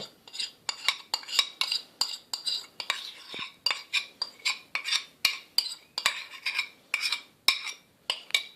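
Melted chocolate is stirred into cake batter in a bowl: a close, rhythmic run of about twenty scraping strokes, each ending in a light clink of utensil on bowl.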